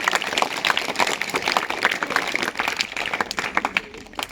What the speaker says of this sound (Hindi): इनके लिए एक बार फिर से तालियां बजाएं।